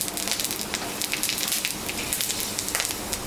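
Panch phoron spices and dried red chillies sizzle in hot oil in a home kitchen, a dense, close crackle of rapid pops that holds steady without talk.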